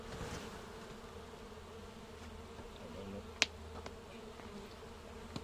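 Honeybees hum inside their hive colony in a dense, continuous, close buzz, with a sharp click partway through.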